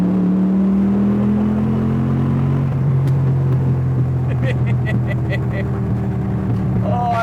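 A widebody Porsche 911 with a manual gearbox drones and rumbles while driving, its engine note shifting in pitch as it pulls, loud and close inside the cabin, with a few light ticks and taps over the top.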